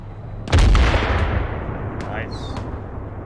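A bomb explodes in a military video game: one sudden, heavy near blast with a long rumbling decay, followed by a few faint sharp sounds.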